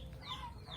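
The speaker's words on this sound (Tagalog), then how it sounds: "Meron din silang mga manok." A few faint clucks from large farm chickens come through in a short, quiet moment, soft and close against low background noise.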